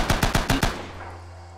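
Machine gun in the World War II shooter Rising Storm on Kwajalein, firing a quick burst of five loud, evenly spaced shots up close, then a short decaying echo with no talk.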